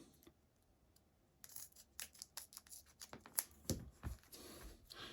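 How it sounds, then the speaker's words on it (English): Scissors snip through dual lock fastener tape while effect pedals are being prepped, a run of short, crisp cuts and scrapes close by after a quiet start, getting louder toward the end. "I hold them together so I can cut the other one"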